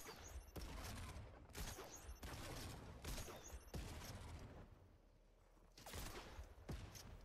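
Sniper gunfire in Fortnite rings out as a series of sharp, distant cracks spaced about a second apart, with a short lull before the shots resume.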